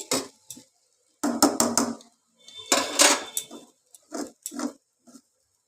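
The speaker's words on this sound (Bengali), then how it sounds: "এবার চাউমিনের সঙ্গে সবজিগুলো দিয়ে একবার সব কিছু নাড়াচাড়া করে নিচ্ছি" Chow mein noodles and vegetables stirred together in a pan, heard as bursts of clattering and scraping against the metal, separated by short silent pauses, close and fairly loud.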